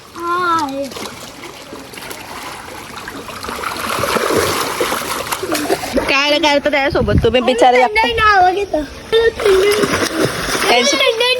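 Splashing, flowing water runs steadily beneath excited voices of children and adults talking and calling out close by.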